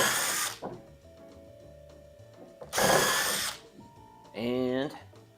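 A handheld power drill drives screws into a board for a flip tool stand in three loud bursts, the first two short and full-speed and the last ramping up, with quiet workshop pauses between.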